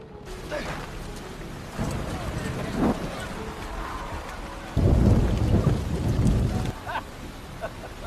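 Heavy rain pours steadily with low rumbling thunder swelling in bursts, loudest near the middle and end, under a continuous wash of noise.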